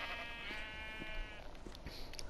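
A sheep in the Minecraft video game lets out a single drawn-out bleat, fairly close, followed by a few soft clicks and small noises, no talking.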